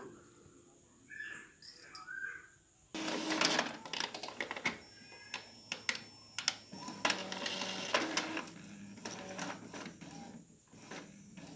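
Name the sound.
Epson L3150 printer printing a page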